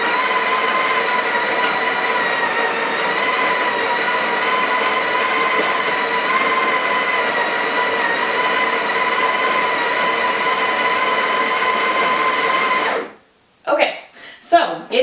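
A Breville Barista Express grinds coffee beans with a loud, steady whirring drone that holds for about thirteen seconds, then cuts off abruptly, followed by brief clicks and handling noises.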